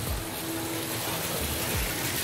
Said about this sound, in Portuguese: Mais um detalhe aqui da piscina, da cascata.